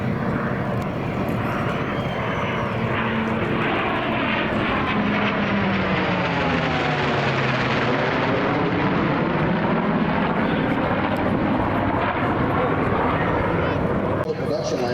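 A plane flies past at an air show, its aircraft engine swelling into a loud, continuous roar with a clear Doppler sweep as it passes, while a voice talks over it.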